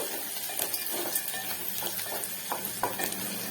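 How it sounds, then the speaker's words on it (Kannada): Orange peel fries in oil in a pan while being stirred, a soft steady sizzle with light scraping and clinks of the spoon against the pan, fairly quiet and close, no talking. "ಇದು ಕೂಡ ಚೆನ್ನಾಗಿ ಫ್ರೈ ಆಗಲಿ"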